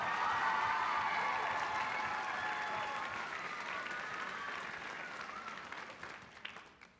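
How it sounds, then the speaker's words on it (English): Warm applause from a school audience for Mr. Robertson after a junior school production of The Little Mermaid, full and continuous at first, then gradually thinning and fading toward the end. "Let's give him a round of applause for"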